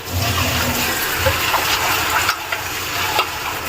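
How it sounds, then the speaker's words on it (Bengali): Masala sizzles loudly and steadily in hot oil for dhaba-style chicken, with a continuous hissing fry and occasional stirring scrapes. "যখন তেলটা বেরিয়ে যাবে তখন মনে হবে যে মশলাটা ভাজা হয়ে গেছে"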